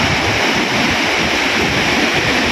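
Strong sea waves surge and crash continuously along a Bicol surf coast, a loud, steady roar of surf with wind rushing across the microphone.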